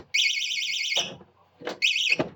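A cheap dollar-store security alarm blares loud and close, a warbling siren running about a second, cutting out briefly, then sounding again before it is switched off.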